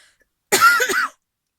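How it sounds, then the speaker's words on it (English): A single harsh, raspy cough bursts out close by, lasting about half a second and surrounded by silence. "Sorry for the cough, I always cough."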